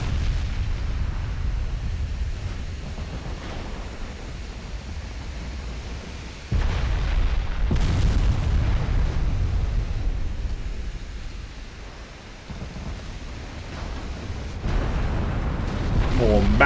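Heavy shell hits and explosions on warships in Ultimate Admiral Dreadnoughts, a naval battle game: deep, rumbling booms roll continuously with a few sharper bursts, a dense low roar throughout, and a voice talks over parts of it.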